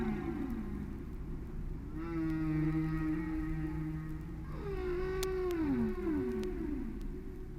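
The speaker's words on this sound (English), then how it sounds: "listen to the soothing sounds of the whale song." Long, low moaning calls from a humpback whale rise and slide downward in pitch, recorded at sea off Maine, heard alone against a steady background hiss.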